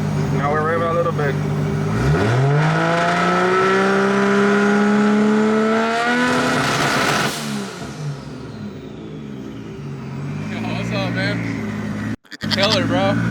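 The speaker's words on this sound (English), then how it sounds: "Now we rev it a little bit." A Toyota 2JZ engine is held on the brake and revved with two-step launch control, climbing from idle into a loud sustained rev, then dropping back with crackling pops; voices talk over it.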